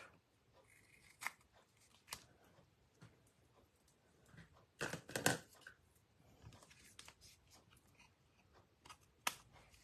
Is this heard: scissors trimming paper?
yes